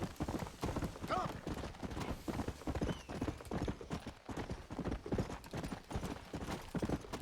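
Horse hooves clip-clop in a steady galloping rhythm while riding in the Red Dead Redemption video game, the hoofbeats loud and close, with a brief whinny early on.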